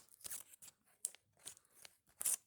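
A Labubu blind box package being cut open, with several short, sharp snips and crinkling plastic in quick bursts, close and quiet, with no voices.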